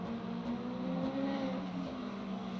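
An Aston Martin race car circulates at Silverstone in Le Mans Ultimate, its engine a steady mid-pitched drone with slight pitch shifts as it holds speed.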